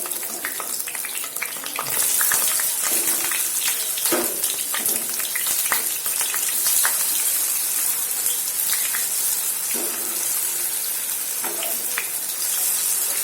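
Sweet pumpkin fritters (bhaji) sizzle steadily in hot oil in a pan while being flipped, a dense, loud crackling frying sound with small clicks of turning throughout.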